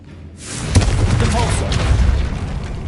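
A Confringo explosion spell cast in a video game, one loud boom bursting out after a brief quiet start and then roaring steadily, with a spoken voice over it.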